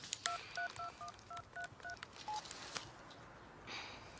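A telephone number is tapped out as a quick run of about nine touch-tone beeps, with an uneven rhythm, fairly faint against quiet background noise.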